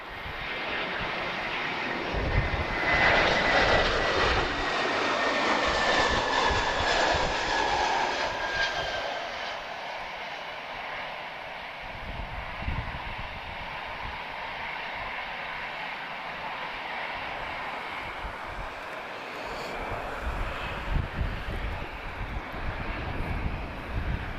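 A first-generation Airbus A320 lands in a crosswind at Lisbon Airport, its engine roar building loud and broad, then easing into a steady rumble with some wind buffeting on the microphone.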